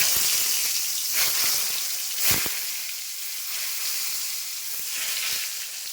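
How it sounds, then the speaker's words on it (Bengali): Pointed gourd (potol) slices dropped into hot oil in a home kadai, a continuous crackling sizzle and hiss with a few sharp pops, no talking. "তেল গরম হয়ে গেছে আমি পটল ছাড়ছি"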